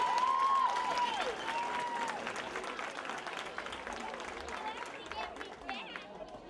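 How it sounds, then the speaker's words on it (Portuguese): An audience at a pageant choosing the Rainha do Espírito Santo applauds, a scattered, fairly soft wash of clapping with some crowd murmur, fading gradually over several seconds after a brief tone at the start. "A ela uma salva de palmas, por favor"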